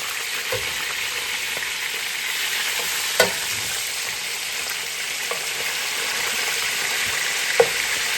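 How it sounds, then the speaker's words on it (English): Continuous hiss of chicken thighs browning in a pan, with a few soft clicks and taps of utensils now and then, steady and moderately loud. "I'm going to go ahead and add in our last thigh and let that start browning."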